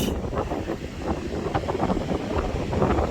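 Gusty wind rumbles across the microphone outdoors while fishing, a low, uneven roar that swells and dips throughout with no talking.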